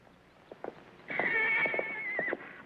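A horse in an Old West frontier setting gives a loud, close whinny lasting over a second, with a few scattered knocks and hoof thuds before and after.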